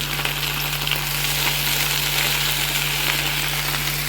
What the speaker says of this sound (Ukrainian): Тут я смажу картоплю.